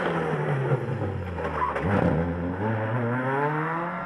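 A Ford Escort rally car at an Irish tarmac rally in West Cork passes close by, its engine note rising and falling through a gear change, loud and continuous with a harsh mechanical edge.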